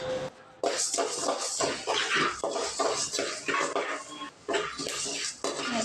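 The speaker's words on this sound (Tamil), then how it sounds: "இப்போ வந்து நம்ம நூறு கிராம் தனியாக எடுத்து வச்சுருக்கோம் அதை போட்டு நல்லா வறுத்து எடுத்துக்கலாம்" Coriander seeds dry roasting in a pan for rasam powder, rattling and scraping in close, repeated bursts as they are stirred.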